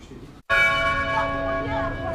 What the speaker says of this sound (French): la cloche de la cathédrale Cœur Immaculé de Marie de Banka sonne pour annoncer la messe pour la paix et la cohésion nationale